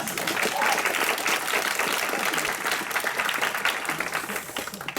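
Audience applause at a physics show, a full crowd clapping densely and evenly throughout, loud and sustained with no gaps.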